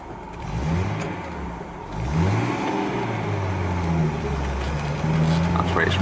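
A Datsun 280Z engine runs unevenly and misfires, its pitch dipping and surging in uneven bursts at close range, with a voice talking over it.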